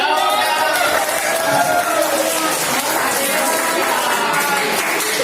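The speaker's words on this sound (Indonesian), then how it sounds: "Ya, tepuk tangan." Students in a classroom applauding together, a dense steady wash of clapping lasting several seconds with voices mixed in underneath.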